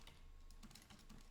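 Rapid, quiet typing on a computer keyboard, a short burst of light key clicks close by.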